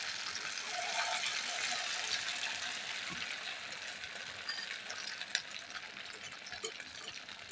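Semai pitha, small sweets made from leftover vermicelli, fry in hot oil as a steady broadband sizzle with a few sharp pops near the end.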